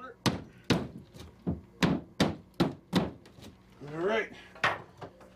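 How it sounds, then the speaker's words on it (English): Repeated hits punching holes through a bathroom wall, about ten sharp, loud thuds at a quick uneven rhythm, with a short spoken exclamation in the middle. "Punch another couple holes at the corner."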